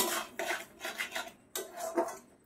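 Papaya mohanbhog stirred continuously in a pan, repeated rasping scrapes of a spoon against the pan in uneven strokes with short pauses, close and clear with no talking.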